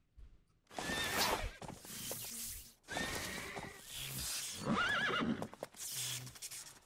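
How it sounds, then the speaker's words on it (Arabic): A horse in the ARK video game neighs and whinnies in several loud bursts across the stretch, with hooves clopping between the calls, close and prominent. "في صوت حصان"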